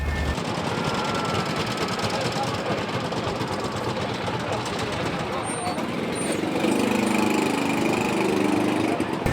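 A small Fiat tractor engine runs steadily while driving, a loud continuous mechanical drone with rattling, staying close throughout; voices talk over it toward the end.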